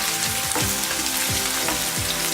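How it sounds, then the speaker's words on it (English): Onion and cumin seeds sauté in hot oil, a close, steady sizzle with a few soft stirring scrapes and occasional pops, no voice. "Now I am adding 1 onion. Just saute a little bit,"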